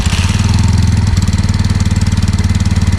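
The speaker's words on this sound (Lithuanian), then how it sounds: "Pašildom variklį keletą minučių ir tada išpilsim tepalus." A Brixton Cromwell 125 motorcycle idles steadily while warming up, its close, loud single-cylinder engine thumping in an even rapid rhythm with a slight change in tone about a third of the way through, no voices over it.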